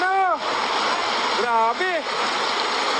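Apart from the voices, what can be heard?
floodwater rushing from Typhoon Kristine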